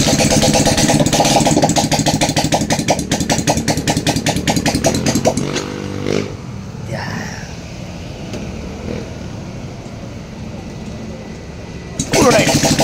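A Suzuki Smash 115 motorcycle engine, with coolant added and a weak battery, runs at a steady loud idle to warm up, its rapid firing pulses strong at first and then settling into a quieter, rougher run with voices talking over it.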